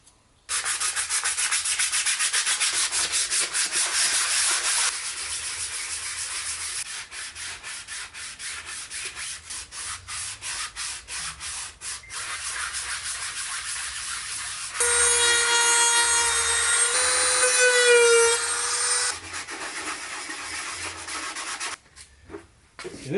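Hand sanding of filler on a custom Mandalorian helmet: steady, close scraping and rubbing strokes that continue for a long stretch, a brief harsher rasping passage partway through, and no talk.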